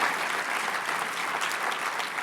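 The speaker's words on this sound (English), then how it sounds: "Give them a big round of applause as well." A dinner audience at an Urban League annual dinner applauds steadily, a dense, even wash of many hands clapping close up, sustained without a break and with no distinct voices.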